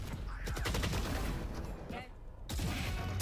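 Rapid gunfire bursts from a Valorant esports match, loud and dense with repeated shots, playing under excited commentators talking over the action.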